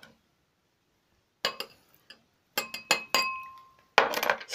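A metal spoon clinks against a drinking glass of water in short bursts, with a few separate taps followed by a busier run of ringing clinks near the end, close and fairly clear, with no talking.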